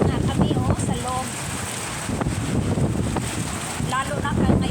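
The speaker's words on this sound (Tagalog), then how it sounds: "Ayan, ang lakas ng hangin, oh. Lakas talaga ng hangin, guys." Strong typhoon wind in Taiwan buffets the microphone and roars steadily outdoors for the whole stretch, with someone talking over it intermittently.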